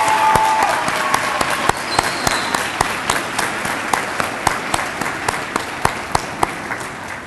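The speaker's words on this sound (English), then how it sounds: "Let's give them another round of applause while they're filing for their seats." Audience applause at an honor society induction ceremony indoors: steady clapping from a sizable crowd, with a few sharp individual claps standing out as it gradually thins.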